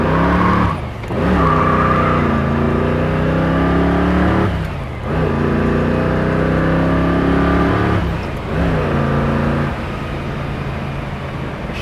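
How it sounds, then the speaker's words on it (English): A 1965 Ford Mustang Fastback muscle car accelerates hard from a stop at a green light, its engine climbing loudly through three rising revs separated by brief gear-change dips, close and continuous with no talk. "All right, here we go."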